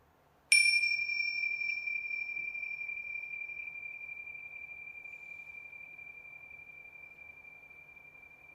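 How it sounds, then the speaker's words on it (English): A single bell struck once rings out clear and sustained, then slowly fades over several seconds in a quiet room, alone without talk. "So after ringing the bell, the sound will go on for quite a while."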